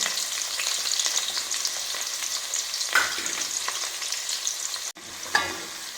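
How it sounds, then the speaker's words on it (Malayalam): Fenugreek seeds and about fifteen chopped shallots fry in hot oil for a lemon and dates pickle, a steady close sizzle broken by a few sharp stirring scrapes, with a brief drop near the end before the frying resumes. "ഒരു പതിനഞ്ച് കൊച്ചുള്ളി അരിഞ്ഞതുകൂടെ ചേർത്ത് കൊടുക്കും നന്നായിട്ട് മുരിക്കണം"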